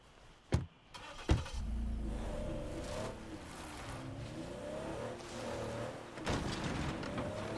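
In the zombie survival game State of Decay 2, a car door thumps shut twice, then the engine cranks and settles into a steady idle with slight revving, close and moderately loud with no talk over it.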